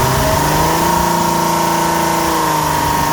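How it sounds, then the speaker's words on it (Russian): A Volkswagen Touareg 3.2 engine, reported to have a knocking fault, holds steady raised revs around 3000 rpm with a loud, even, droning hum and no distinct knock standing out. "Вот мы прибавляем обороты, там 3000, наверное, уже."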